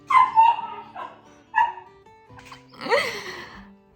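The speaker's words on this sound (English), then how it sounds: "I'm so sick of this dog right now." A dog barks and yips several times at close range in uneven bursts, ending with a longer, whining bark, and the sounds stand alone without talk.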